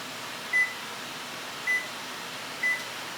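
A kitchen timer sounds three short, evenly spaced electronic beeps over a low steady room hum, clear and close, with no talk.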